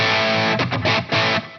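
Overdriven electric guitar, a Fender 75th Anniversary Ultra II Telecaster through a PT-15 dirt channel, strums gritty chords, loud and sustained, with a couple of short chopped bursts, no voices.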